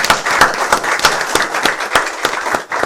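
A small audience claps steadily and fairly close at the end of a talk show episode, with crisp, distinct handclaps forming a brisk irregular rhythm, and no voices over it.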